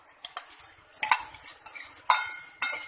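A spoon stirs a tempering of mustard seeds, urad dal, curry leaves and dried red chilies into curd rice, giving sharp clinks and scrapes against the vessel at irregular intervals, close up, with a faint sizzle and no talking.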